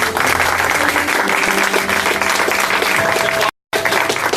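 Church congregation applauding the Lord, a loud, dense, continuous roar of clapping from many people, briefly cut by a moment of silence near the end before resuming.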